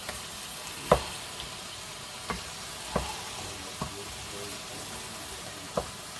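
Veal pieces browning in a pan, a steady low sizzle broken by a handful of sharp clacks as the meat is turned, with no voices.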